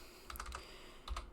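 Quiet bursts of computer keyboard typing, a quick cluster of keystrokes followed by a short pause and a second pair of taps, close and soft in a still room.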